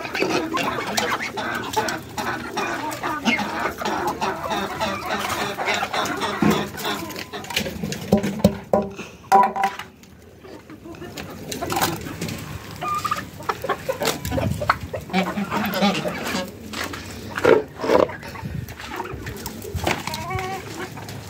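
Rooster and hen on a home farm clucking and calling intermittently through the clip, fairly close, with other yard noises and occasional faint voices around them.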